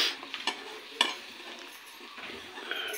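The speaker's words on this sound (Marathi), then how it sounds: "चांगला ढवळून घ्यावं." Crab curry masala of onion, curry leaves and garam masala in oil, stirred in a pan for a Konkan-style crab curry; soft sizzling under scraping spoon strokes and occasional clinks against the pan, close and quiet, with no talking.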